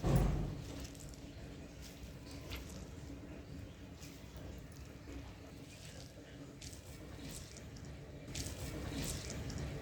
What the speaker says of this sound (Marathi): मुळा किचल्या झाल्याच्या नंतर असं पाणी असं पिळून घ्यायचं